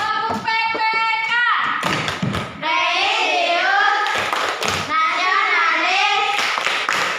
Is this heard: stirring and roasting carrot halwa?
no